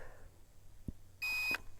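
A short, steady electronic beep sounds once, thin and fairly quiet, against faint background hiss: a Holy Stone HS110D drone controller beeping during resync.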